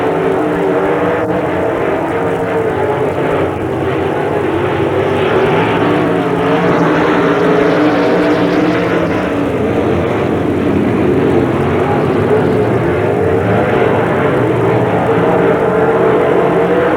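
Sportsman race cars race at a dirt speedway in Knox, Pennsylvania in 1994, a continuous loud engine roar that holds steady for the whole stretch from somewhat far off, with no voices over it.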